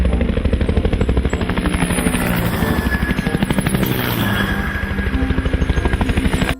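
A toy helicopter whirs close and loud in a steady, rapid buzzing pulse that runs the whole time without pause, alone with no talking over it.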